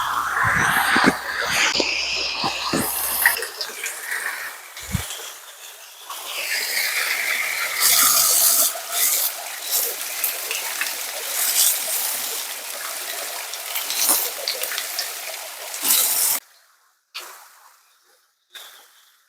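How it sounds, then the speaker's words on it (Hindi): A natural year-round waterfall at a forest hermitage in Chitrakoot where devotees bathe, heard as loud rushing, splashing water that fills most of the clip with shifting surges before cutting to quieter moments near the end. "यहाँ पे झरना है जो कि भगत लोग स्नान कर रहे हैं"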